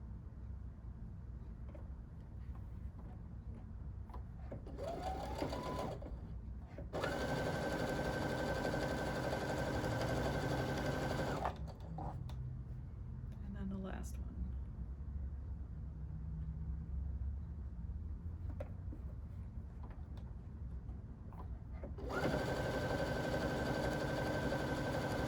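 A sewing machine runs in several sustained bursts while stitching quilt sampler pieces, a steady close mechanical whir starting and stopping with quiet gaps between runs.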